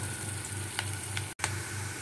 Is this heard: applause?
no